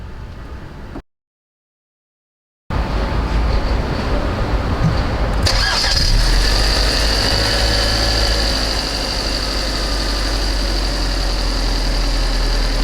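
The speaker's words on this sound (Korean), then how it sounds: "일단 시동은 힘차게 걸리네." A 2020 Genesis G70's four-cylinder engine cranks and fires up after a brief silence, then settles into a steady, slightly rough idle with a constant low rumble close by.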